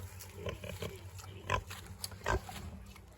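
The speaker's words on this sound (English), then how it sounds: "But there's pigs." Pigs grunt in a paddock on a farm in winter, with short, irregular snorts and a couple of louder close grunts over a steady low background.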